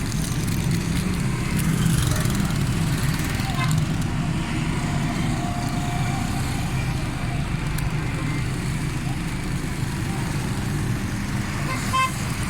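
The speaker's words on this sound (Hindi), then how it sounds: "ठीक है गाड़ी, ज़बरदस्त साउंड के साथ है" A Suzuki Cultus three-cylinder engine runs steadily with a low, rumbling exhaust drone throughout, loud and close, with a faint horn-like tone near the end.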